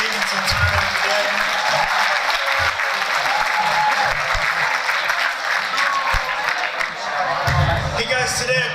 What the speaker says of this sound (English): can we give your school a big round of applause